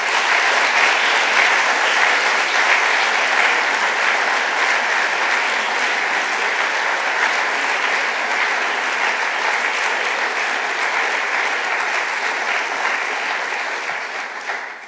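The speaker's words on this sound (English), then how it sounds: "I think we should all have a round of applause for our graduates today." Graduation-ceremony audience applauding new graduates of an executive master's program in a hall, a dense, sustained clapping that stays loud for about fourteen seconds before tapering off at the very end.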